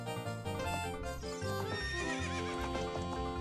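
A horse neighs with a long whinny in the video game Zelda Ocarina of Time, rising over a steady game music backdrop, loud and close.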